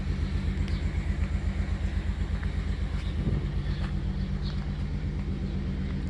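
A V6 widebody car idles and creeps in and out of a garage, its engine a steady low pulsing rumble close by, with a slight rise in revs midway.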